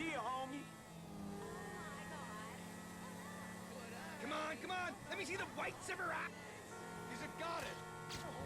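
Car engine humming steadily in GTA 5 while driving close alongside another car, a continuous mid-level drone with music-like tones over it and people talking throughout.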